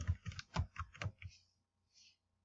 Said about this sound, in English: go ahead and type in hydroponics.